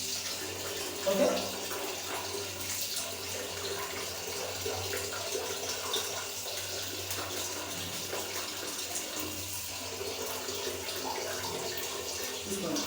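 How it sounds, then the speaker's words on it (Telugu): Water pours and splashes steadily, as when rinsing hair by tipping water over the head in a bathroom, running continuously at close range with a brief louder splash near the start. "అప్పటికప్పుడు మీ తల మీద పోసేసుకోండి."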